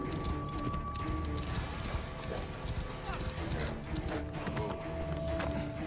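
Horse hooves clip-clopping steadily in the video game Assassin's Creed Origins, a continuous trotting rhythm set under game music, ambient effects and ongoing talk.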